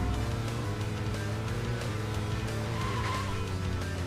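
Car driving and skidding in the video game Deadly Premonition, with a steady engine drone and tire squeal running loud and continuous throughout.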